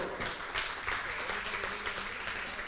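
A church congregation breaks into dense, continuous applause, an even wash of many hands clapping together at moderate loudness for the whole stretch.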